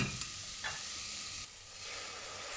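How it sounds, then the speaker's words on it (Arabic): Onion sautéing in a covered pot for a Moroccan bulgur soup with green onion leaves, giving a steady close sizzle with stirring scrapes throughout, alone without talk. "ايوا شحرات واحد شويه وطلقات العطريه ديال اللي درت"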